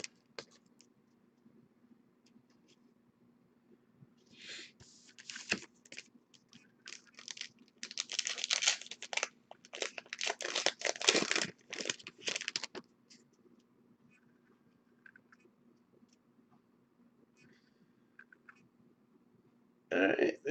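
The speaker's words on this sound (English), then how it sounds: "we're really going to rip through these other packs pretty quick" Trading card packs from a 2019 Five Star case break being torn open, with bursts of crinkly ripping and rustling foil wrappers close up and quiet stretches between them.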